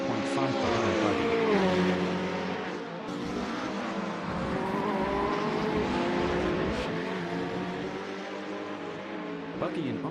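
Ferrari 488 GT3 race car in a racing video game at Lime Rock, engine droning with shifting harmonic pitches throughout, close and loud, with other cars around and a commentator's voice running underneath.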